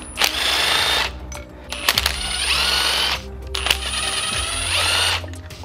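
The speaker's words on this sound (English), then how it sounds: "that's when you can use your rattle gun." A rattle gun impact wrench works the bolts on an Audi 1.8T engine during a connecting-rod upgrade, firing in three buzzing, rattling bursts of about a second each, separated by short pauses, loud and close with no speech.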